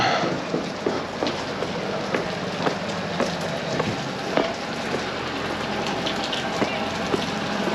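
Steady rain falling outdoors, a dense hiss of drops with scattered sharper patters and splashes spread evenly throughout, fairly close and continuous.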